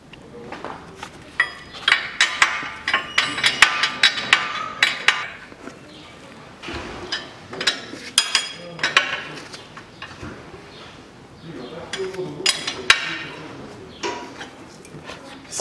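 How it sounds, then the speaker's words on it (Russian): A wrench tightens the ball joint nut on the front suspension of a 2003 Toyota Caldina 2.0, giving close, sharp metallic clinks and ratcheting taps in irregular bursts, with quieter pauses between. "затягиваем шаровую опору"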